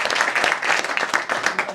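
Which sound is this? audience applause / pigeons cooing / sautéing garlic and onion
audience applause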